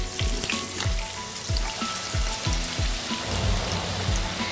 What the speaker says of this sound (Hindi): इसको हम बिल्कुल डीप फ्राई करेंगे और बिल्कुल गोल्डन ब्राउन कलर आएगा इसका